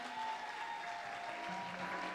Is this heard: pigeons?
no